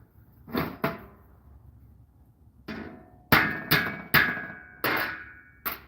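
A hammer strikes a metal piece on an anvil, the piece set over the hole in the anvil face: two close blows, a pause, then five sharp ringing metallic impacts spaced about half a second apart, near and loud.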